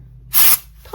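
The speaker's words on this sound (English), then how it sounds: "I'm using a little tiny bit of compressed air" A short, close burst of compressed air hisses onto a plaster mold for about a quarter second, loud and breathy, then cuts off abruptly, with a faint low hum beneath.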